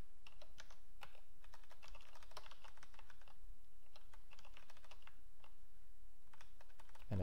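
Computer keyboard keys tapped while entering HTML into a Ruby on Rails page file, irregular clicky keystrokes in quick runs and short pauses, close and clear over a low background hum, with no talk.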